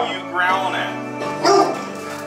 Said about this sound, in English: Charlie, what are you growling at?